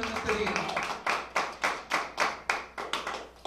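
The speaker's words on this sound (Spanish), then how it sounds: "Dale la mejor ofrenda de aplausos a Él que te está hablando en este día" A church congregation claps in a steady rhythm, roughly a dozen sharp claps landing at even intervals at moderate volume, with faint voices in the background.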